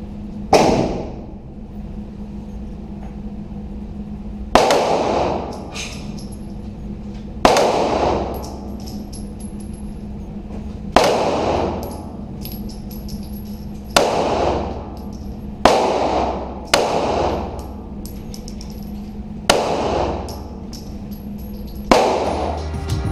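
Gunshots fired at a target 75 feet away ring out as sharp, loud reports spaced a few seconds apart. Each one rings briefly before dying away over a faint steady background hum.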